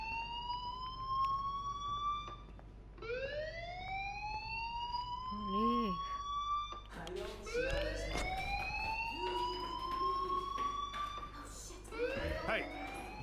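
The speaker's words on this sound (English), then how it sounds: "Hey, do you hear that fire alarm?" Fire alarm in the video game Life is Strange, a loud repeating siren with rising wails that sweep up again and again, steady and insistent, with a short warbling tone in between.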